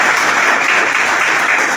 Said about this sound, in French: Est-ce qu'on peut applaudir pour eux?